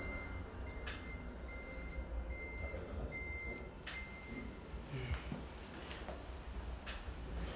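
A series of high, thin electronic beeps from a fall-detection floor alarm in a nursing home repeats at intervals over a steady background hum, moderately quiet and without talking.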